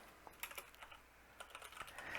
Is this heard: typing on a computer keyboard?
yes